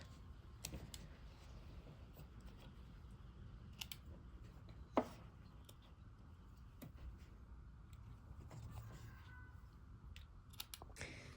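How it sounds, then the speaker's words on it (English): Scissors snip loose threads off a sewn drawstring bag, a handful of sparse, crisp clicks scattered over a quiet room background, one louder snip standing out midway. "So now you just want to cut your little threads off."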